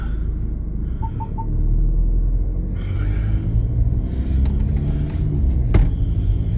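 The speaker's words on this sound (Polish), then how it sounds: "jak ja lubię tym samochodem jeździć" A Ford car drives along a road with a steady low engine rumble and tyre noise from inside the cabin, with a few faint clicks and knocks but no talking.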